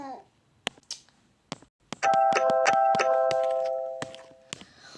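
A doorbell in a house rings in a repeated ding-dong chime lasting a couple of seconds, with scattered sharp knocks or taps before and after it.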